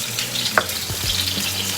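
A thick tuna steak searing in hot oil in a pan, a close, steady sizzle with a few brief pops and spatters, heard alone without speech.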